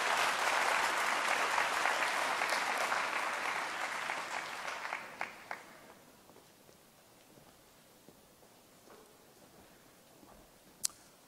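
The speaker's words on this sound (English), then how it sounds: "The applause are for the new Vice-Chancellor and Principal" Audience applause at the University of Pretoria inauguration of the new Vice-Chancellor and Principal, a loud dense clapping that fades over about six seconds into a quiet room with a few scattered claps.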